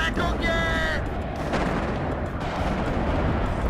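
Artillery fire in a WARNO/Wargame strategy video game: dense, continuous booming and rumbling barrage with some high whistling tones at the start, loud and sustained throughout.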